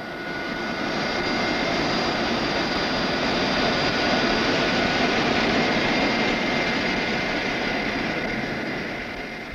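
Steady broadband roar inside an aircraft cabin in flight, with constant engine and airflow noise and faint whining tones. It is even and loud for the whole stretch, with no speech.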